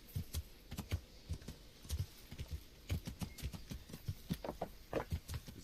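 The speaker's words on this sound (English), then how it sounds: "It's a crazy guy on a horse." Steady horse hooves clip-clop in a brisk, even rhythm in the medieval game Kingdom Come: Deliverance, close and moderately loud with no talk.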